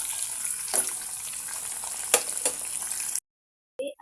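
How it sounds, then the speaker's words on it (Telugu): Chopped vegetables and onion frying in a pan for vegetable pulao, a steady hissing sizzle with a few soft scrapes of stirring, cutting off abruptly near the end. "ఇప్పుడు వీటన్నిటిని కలబెట్టేసి వీటిని కూడా లైట్ బ్రౌన్ కలర్ వచ్చేంత వరకు ఫ్రై చేసుకోండి"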